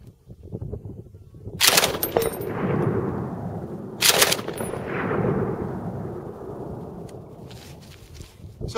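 A Japanese Type 11 light machine gun fires two loud, close bursts, each a rapid rattle of shots followed by a long reverberant echo rolling across an open range.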